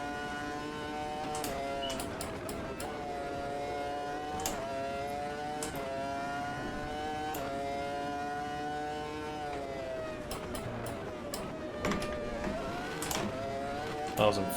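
A V10 Formula 1 car races at Imola in a 2001 setting in a VR racing game, its high, harmonic engine whine rising and falling through gear shifts, with someone talking over it.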